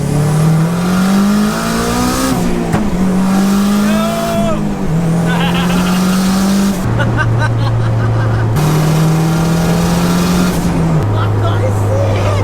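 A Honda Civic Type R, boosted, revs hard and accelerates in a street race. Its engine note climbs through several gear pulls with drops between shifts, loud and near, while excited voices talk over it.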